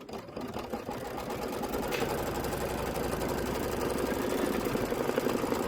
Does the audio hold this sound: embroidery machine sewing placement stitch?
yes